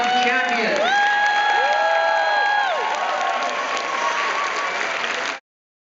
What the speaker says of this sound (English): Let's have one more round of applause for our 3x3x3 Rubik's Cube champion.